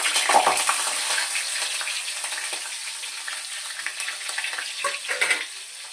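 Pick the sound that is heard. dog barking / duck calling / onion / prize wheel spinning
onion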